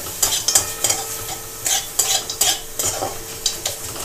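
Taro leaves (kochu shak) being stirred and fried in a pan, with a steady sizzle broken by repeated scraping strokes of the spatula against the metal, close and fairly loud, with no talking.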